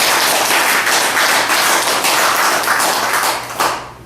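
A crowd of professors, alumni and students of an adult learning class at Youngsan University clapping together, a loud dense burst of applause that fades out at the end.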